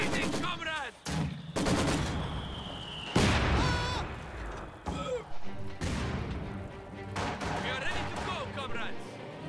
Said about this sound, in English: Mortar continues to fall.